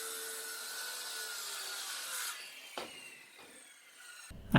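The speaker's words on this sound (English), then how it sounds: "I set the depth of the blade there the way my dad taught me" A circular saw cuts through plywood underlay sheets in a continuous close whine that winds down near the end, followed by a brief clatter.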